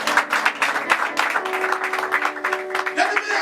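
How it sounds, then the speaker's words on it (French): A church congregation claps in a quick, uneven burst of applause, fairly close and loud, with voices cheering and calling out over the clapping for a few seconds. "Acclame très très fort Jésus."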